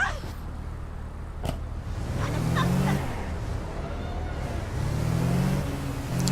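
Car engine in the APB video game humming steadily and rising in pitch as it accelerates, with a couple of sharp clicks, and no talking.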